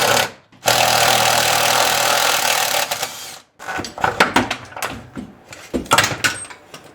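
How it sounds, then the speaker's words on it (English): A power tool, probably an impact wrench, rattles loudly and up close as it removes the 1/2-inch bolt at the top of a Jeep Cherokee XJ rear shock, in one long burst followed by shorter choppy bursts. "we need to remove the 1/2-inch bolt that actually holds the top of the shock in"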